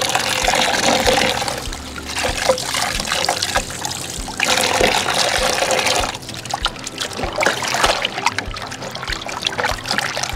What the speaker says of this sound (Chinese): 根部尽量每一条都冲洗仔细一点